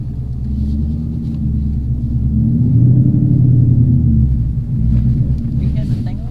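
A Coyote-powered, T56-swapped 2016 Mustang GT idles while warming up, a loud steady low rumble throughout, with voices talking over it.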